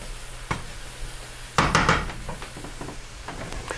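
Food sizzles in a pan while chili is cooked, with a soft steady fry underneath, a sharp knock near the start and a louder burst of stirring and scraping partway through, followed by a few lighter clinks.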